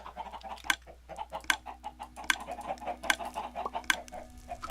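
Minecraft chickens cluck in short, repeated bursts throughout, several birds overlapping at close range over a faint steady hum, with no talking.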